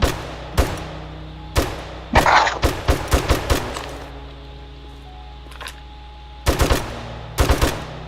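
Gunfire in the video game 7 Days to Die, aimed at a UFO: sharp bursts of shots in clusters, a single shot, then a rapid volley, and two more bursts near the end, loud and close with quiet gaps.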